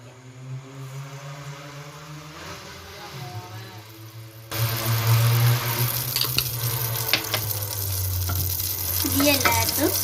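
Two tablespoons of ghee sizzle in a pan on a stove during a student cooking contest, a soft low frying hiss that jumps sharply louder halfway through and then holds steady, with faint clinks and stirring over it.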